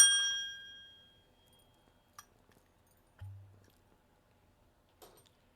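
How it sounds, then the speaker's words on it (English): A single bell rings at the start, a bright ding with a long shimmering decay over the first second, followed by scattered faint clicks and a low thump in an otherwise quiet room. "let me ring the bell one more time"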